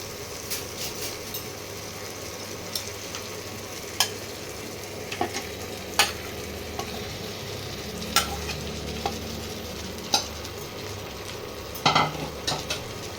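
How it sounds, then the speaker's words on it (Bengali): Lamb pieces stir-fried in a tomato spice masala for a lamb curry make a continuous sizzle, broken by regular sharp clanks of a spoon against the pan every second or two. "এবার মাংসগুলো মশলায় দিয়ে ভালো করে কষাতে হবে।"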